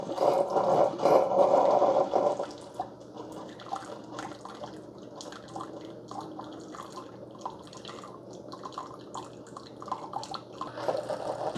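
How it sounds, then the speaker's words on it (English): Hot water from a Keurig K-Cafe coffee maker trickles and drips steadily into a cup during a freshwater rinse, a louder pouring burst at first settling into a softer continuous dribble. "This is called a freshwater rinse or a cleansing brew the first time you get it."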